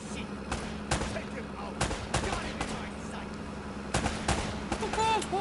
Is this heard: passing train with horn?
no